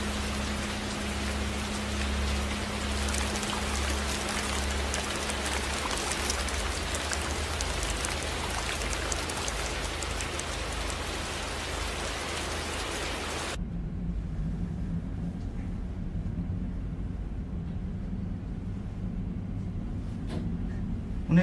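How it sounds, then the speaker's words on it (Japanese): Heavy rain pours down steadily for a long stretch, then drops abruptly to a softer, quieter patter of rain with occasional drips. "この雨 やむかな。"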